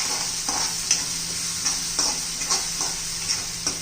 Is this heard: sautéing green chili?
yes